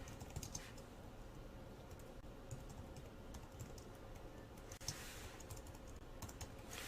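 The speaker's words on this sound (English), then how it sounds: "I can just hit the tab on my keyboard and I don't have to worry about using the space bar like a dozen times" Steady typing on a computer keyboard with tab key presses, quiet clicking taps in an irregular stream with a few sharper strokes, heard alone.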